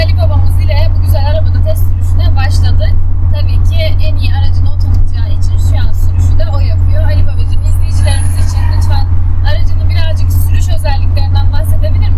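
A 1978 Tofaş Murat 131 with a 1300 engine on a test drive, its low steady engine drone continuous throughout while people talk over it inside the car.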